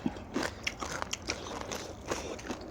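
Crunchy bites and chewing of a spicy mixed seafood salad, crisp crackling crunches at irregular intervals, close to the mouth and fairly loud, with no talking.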